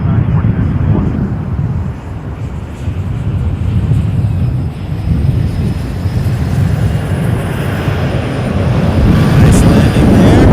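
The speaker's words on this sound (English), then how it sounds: "Nice landing there." A plane lands at Toronto Pearson Airport, giving a steady, loud, broad engine and rolling rumble with a faint high whine, while a voice talks over it.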